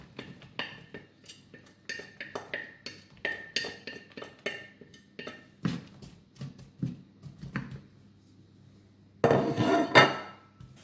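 Dishes, pots and utensils are handled while tidying a kitchen as onions fry on high heat, giving irregular close clinks, knocks and clatters with brief pauses and a louder rushing clatter near the end.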